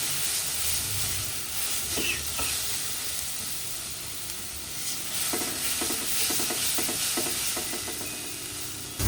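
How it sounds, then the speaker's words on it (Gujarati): Garlic paste sizzles steadily in a pan over a low gas flame, a continuous close frying hiss broken by clicks and scrapes of stirring, with no voices. "ચમચી આટલી લસણની પેસ્ટ નાખીને આપણે ગેસ ધીમો કરી દઈશું."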